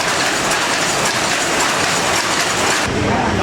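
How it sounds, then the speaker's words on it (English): Silk weaving looms run in a workshop of about sixty machines, making a dense, steady clattering mechanical roar that fills the room, loud and continuous without a pause. "You can hear the loom."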